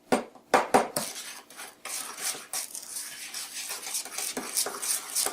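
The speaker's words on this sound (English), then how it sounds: "Beat that egg up in there real good." Peanut butter mixture with an egg being beaten by hand, a utensil scraping and clinking against the bowl in quick irregular strokes, close and fairly loud with no voices.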